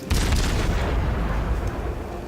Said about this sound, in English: I just have to get shot at by the battleship